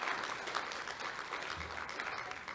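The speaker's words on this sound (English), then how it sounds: "Give Doug a round of applause." Audience applause for Doug at a Nimiipuu speaker series event, a fairly quiet, steady patter of many hands clapping at a distance.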